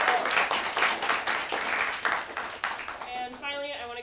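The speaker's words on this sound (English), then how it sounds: "so round of applause for them" A theatre audience applauds the cast and crew of a show with dense, lively clapping that thins out toward the end as a voice begins speaking over it.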